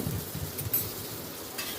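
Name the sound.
stirring frying tomatoes, onions and chillies in a pan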